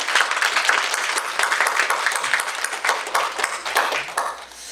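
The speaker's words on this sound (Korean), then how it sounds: "사랑과 격려 어린 박수로" Congregation applause during a Sunday worship service at Bokdoen Church in Las Vegas, fairly quiet clapping from the pews that swells and thins unevenly over several seconds before tapering off.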